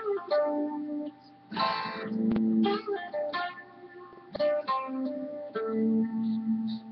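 A guitar playing a phrase in a Dorian scale shape: a string of picked notes and short chordal strums at moderate volume, ending on a sustained resolving note, with no talking.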